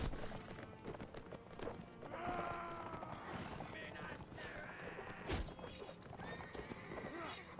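Horses whinny and hooves clatter in a Lord of the Rings-themed Warband battle, with clashing mechanical effects and a mounted enemy circling, heard under steady game noise.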